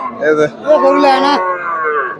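A cross-bred milking cow at a cattle market lets out a loud, close moo with a short grunt followed by a long, drawn-out, wavering call, heard alone.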